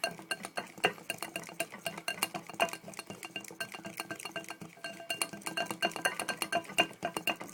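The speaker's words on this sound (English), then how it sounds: "So you're going to keep whisking that." A whisk beats pizza dough mixture in a bowl, a fast, continuous clatter of metal tapping and scraping against the sides, close and steady throughout with no talking.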